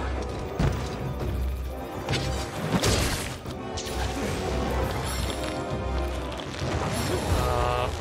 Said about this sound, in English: Oh my god, secondary explosions.